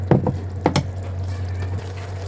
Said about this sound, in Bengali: এখন এখানে আরেকটু পরিমাণ পানি দিতে হবে